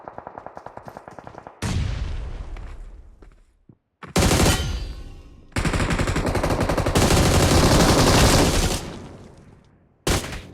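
Gunfire in the BGMI mobile battle royale game comes in dense automatic bursts, with rapid rattling shots followed by long sustained volleys that fill the clip at loud, close range.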